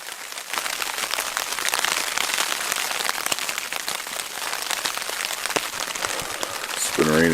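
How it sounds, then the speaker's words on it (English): Rain drums on a tent at a riverside campsite in a dense patter of close, sharp drops over a steady wash, with a brief voice-like sound near the end. "been raining for hours."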